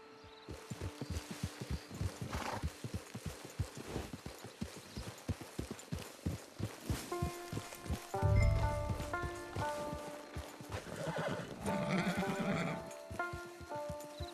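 A horse in Red Dead Redemption 2 gallops with steady, rapid hoofbeats, then whinnies loudly, while game music swells underneath.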